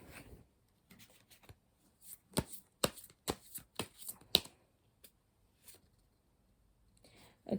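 Tarot cards shuffled by hand in a series of crisp riffles and slaps, close and fairly quiet, with brief pauses between bursts and no talking over them.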